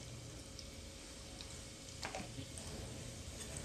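Curry leaves and cumin seeds sizzle in hot oil for a cabbage stir-fry, a steady close hiss and crackle that holds even throughout, with a few small pops and a brief flare of spattering partway through.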